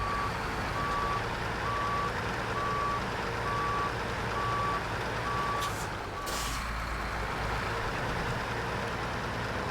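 A long truck slowly turns around on a snowy road with a fallen bridge and rockslide nearby, its reversing alarm beeping at a steady, regular rhythm over a continuous idling engine, with a brief burst of hiss near the end.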